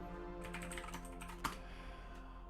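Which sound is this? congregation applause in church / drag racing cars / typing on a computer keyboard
typing on a computer keyboard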